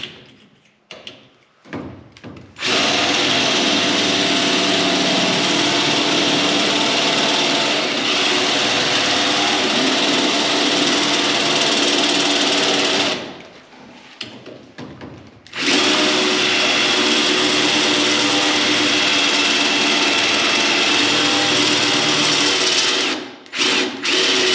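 A power drill bores out the side exterior trim fasteners on a Grand Wagoneer in two long, loud, steady whining bursts, separated by short pauses and ending with a brief stop.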